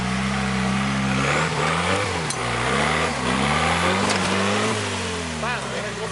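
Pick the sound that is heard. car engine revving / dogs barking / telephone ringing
car engine revving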